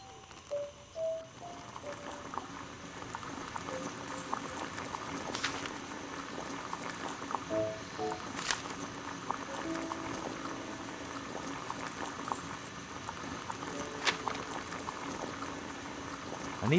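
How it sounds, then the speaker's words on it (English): Water heating in a kettle over a flame in the Sherlock Holmes: The Devil's Daughter video game, a steady, low bubbling rumble that holds throughout with a few brief tonal clicks, no voices. "Boil water in kettle."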